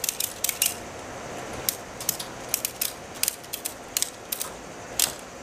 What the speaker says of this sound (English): and then you start ratcheting it.